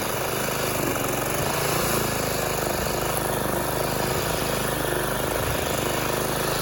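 Small engine on an Ariens ST622 walk-behind string trimmer, freshly fitted with a new carburetor, running steadily at a constant throttle, loud and close with a low, even drone and no talk.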